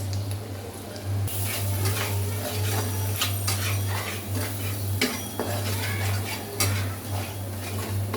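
Spices frying in a pan for a jackfruit curry with shrimp and dried fish, with a spoon scraping and clinking against the metal in steady strokes over a constant low hum, fairly close and with no talk.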